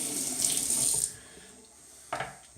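A bathroom sink faucet runs for about a second while a safety razor is rinsed, a close splashing hiss that cuts off, followed by a brief clink and splash.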